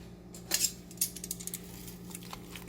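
A spoon scrapes and clinks against the pot while peppered steak, peppers, ginger and vegetables are stirred in a crockpot, giving a few sharp metallic taps and scrapes close up with a steady low hum underneath.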